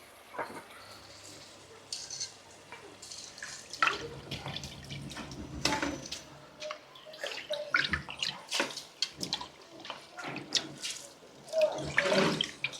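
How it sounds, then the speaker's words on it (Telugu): Water is poured into a pot of biryani rice, making close, intermittent splashing and gurgling bursts at fairly low volume. "సో ఇప్పుడు దీంట్లో మనం బిర్యానీ రైస్ వేసుకుంటూ వాటర్ కూడా యాడ్ చేసుకోవాలి"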